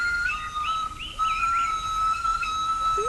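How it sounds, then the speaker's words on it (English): A thin, steady whistled tone holds with small warbling flourishes above it, like birdsong carrying from a short distance over a quiet background hum. "What's that warbling, whistling sound?"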